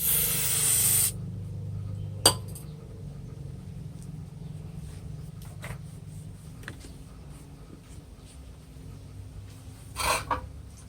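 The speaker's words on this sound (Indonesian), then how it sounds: "kita semprotkan dengan anti karat agar sisa-sisa yang menempel dapat lepas dengan baik" An anti-rust aerosol is sprayed onto bonsai cutting tools. A loud, close hissing burst lasts about a second, then quieter handling and faint clatter follow over low background rumble.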